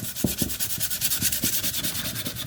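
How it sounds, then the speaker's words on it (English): Quick sanding of a painted wooden build: a fast run of rhythmic back-and-forth scratchy strokes, close and steady, with no talk. "A quick sanding and his decoupage."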